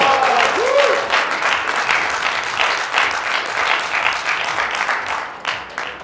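Steady audience applause at a billiards match in the 2019 eBest Continental Cup, a loud sustained wash of clapping that lasts throughout and tapers slightly near the end.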